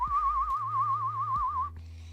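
A person whistles a warbling, trilling tone imitating a character's call, one steady wavering note held for well over a second, close and fairly loud, then stopping abruptly.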